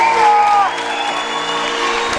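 Crowd at an NCAA Division III basketball championship game in R.A. Faginal Hall, a brief burst of cheering and whoops that quickly fades into a steady murmur of crowd noise.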